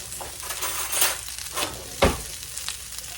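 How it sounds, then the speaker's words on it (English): Bacon frying in a pan with a continuous crackling sizzle, broken by a few scrapes and one sharp clink of a utensil against the pan partway through. "Let's get our bacon in there."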